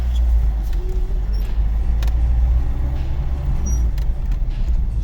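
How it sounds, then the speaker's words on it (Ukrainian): A carburetor-fed VAZ 2104 car on a rural road gives a loud, continuous low engine rumble and road noise close by, with a few faint clicks and knocks and no talking. "Так, Зараз ми трошечки покатаємося, зараз покажу, як воно стартує."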